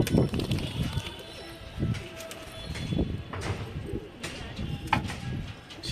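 Pigeons at a home loft in Bareilly coo and flutter nearby, their low rolling calls repeating amid rustling and scattered chirps, with people talking in the background.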